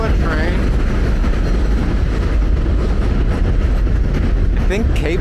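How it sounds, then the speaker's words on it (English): An Acela high-speed train rushes past nearby, a steady loud roar with rumbling low end throughout, and a voice speaking briefly over the noise. "There's an Acela train."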